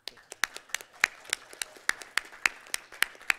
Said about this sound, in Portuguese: Podemos aplaudir, Napoleão?